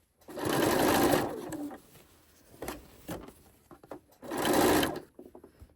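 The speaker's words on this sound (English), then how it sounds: "Sewing it on the back so I can bring it around to the front." A sewing machine stitches fabric for a Christmas tree skirt in two steady whirring runs, each about a second or so, with quiet handling of fabric and small clicks between them, close and clear.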